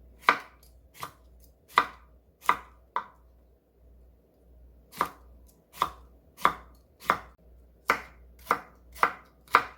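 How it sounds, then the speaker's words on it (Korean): A washed cucumber is julienned with a knife on a cutting board, sharp chopping taps in two rhythmic bursts, a few strokes, a pause, then a steady run, close and clear with no talk. "세척한 오이 한 개채 썰어 줄 겁니다."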